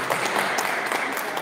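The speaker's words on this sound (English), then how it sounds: "Big clap for Minister Thompson" A church congregation claps for a minister during a Sunday communion service in Peckham, a dense, steady wash of hand claps filling the room for a brief moment, with no voices over it.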